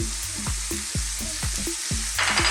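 Turmeric, chili, cumin and coriander powders fry in a pan for a chicken curry, with a quick, regular scraping rhythm over a close sizzle that flares briefly at the end.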